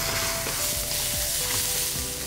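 Chinese sausage sizzling and frying in a hot wok as it is stir-fried for fried rice, a steady loud crackle with scraping stir strokes throughout, no talking.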